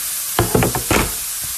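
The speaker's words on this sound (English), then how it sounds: "I'm going to saute this until the onion is translucent" Onion sauteing in oil in a pan: a steady hissing sizzle with a few short knocks and stirring scrapes close by, no talk.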